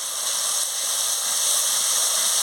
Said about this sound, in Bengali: কাশ্মীরি লঙ্কার গুঁড়ো দিয়ে দিচ্ছি, দিয়ে মশলার সঙ্গে কষিয়ে নিচ্ছি।